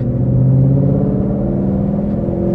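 A Ford Mustang engine running close by, a loud, steady low rumble with a strong droning tone and little change in pitch over a couple of seconds.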